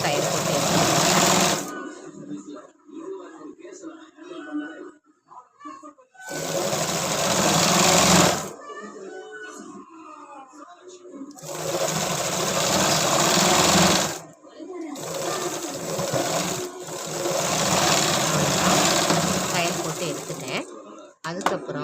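A sewing machine stitches the edge of a child's tracksuit in four rapid, loud bursts of whirring, with a person speaking in the quiet gaps between runs.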